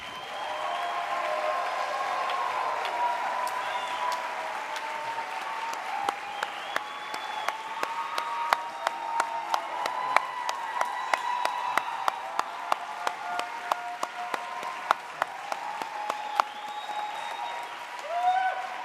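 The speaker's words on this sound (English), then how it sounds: "applause for our graduates is definitely welcome" Sustained applause from a large convocation audience welcoming medical school graduates, Doctor of Medicine candidates of the Burnett School of Medicine at TCU, steady dense clapping with sharp individual claps standing out toward the end.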